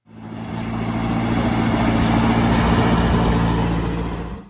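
A vintage Massey Ferguson 135 tractor engine runs steadily: a loud, even diesel drone with a deep low hum that fades in, holds for several seconds, and tails off near the end.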